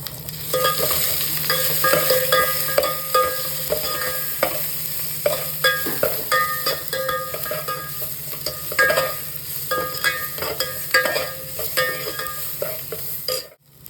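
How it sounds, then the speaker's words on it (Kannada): A tempering of dry red chilli, crushed ginger and garlic, a small onion and coriander fries loudly in hot oil for idli sambar, with steady sizzling and repeated metallic stirring scrapes and clinks throughout, with no voices. "ಒಗ್ಗರಣೆಗೆ ಒಣಮೆಣ್ಸಿನ್ಕಾಯಿ, ಶುಂಠಿ ಬೆಳ್ಳುಳ್ಳಿನ ಜಜ್ಕೊಂಡಿರೋದು, ಒಂದು ಚಿಕ್ಕ ಆನಿಯನ್ ಮತ್ತು ಕೊರಿಯಾಂಡರ್, ಅದನ್ನು ನಾರ್ಮಲಾಗಿ ಒಗ್ಗರಣೆ ಹಾಕ್ಕೊಳ್ಳೋದಷ್ಟೇ."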